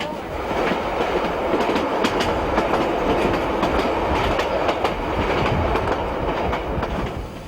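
The Flying Scotsman steam locomotive hauls a train of passenger carriages in Tasmania, Australia, giving a continuous loud rolling rumble with rhythmic wheel clatter over the rails and no let-up.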